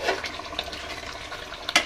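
Water is poured into a pot of cooking liver, a steady close splashing pour with a brief louder splash near the end.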